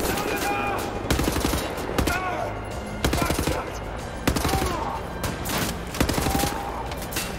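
Bursts of automatic gunfire from the video game Wolfenstein: The New Order rattle loudly in repeated volleys, each lasting about a second, with brief pauses between and some game sounds underneath.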